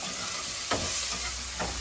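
Spices and potato with salt and a little turmeric sizzle steadily in a pan, with two sharp scraping stirs cutting through the close, continuous frying hiss.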